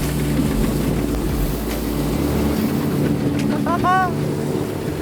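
A Highfield Sport 330 boat's Yamaha F25 outboard engine drones steadily up close with wind buffeting the microphone, the hum shifting slightly as the boat carves through a turn.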